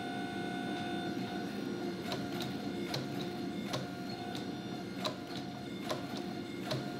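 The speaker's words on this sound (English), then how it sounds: "While I draw this billet out," A Damascus steel billet being drawn out at the forge for a katana, with a steady run of hammer strikes about twice a second over a constant mechanical hum and whine, close and even, with no talking.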